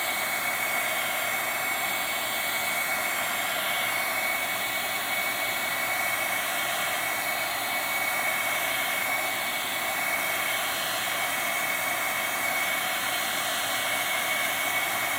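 Heat gun blowing on its high setting, a steady, loud, unbroken rushing whoosh of air with a constant motor whine, unchanging for the whole stretch and heard alone.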